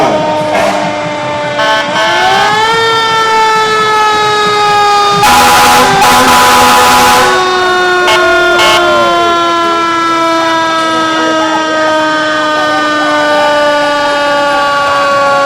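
Fire engine siren from a passing engine in a town anniversary parade in Westminster, Massachusetts: a loud wailing tone that sweeps up and holds, with a burst of air horn blasts midway and truck engine rumble underneath.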